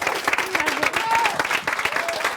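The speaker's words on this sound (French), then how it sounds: "on peut les applaudir encore bien fort" Steady applause from a TV cooking competition finale audience, clapping filling the clip while a voice speaks over it.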